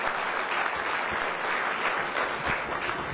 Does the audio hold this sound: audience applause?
yes